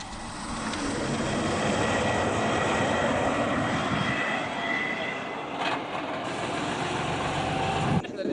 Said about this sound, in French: elle a repéré le mouvement de décollage et d'atterrissage normal des avions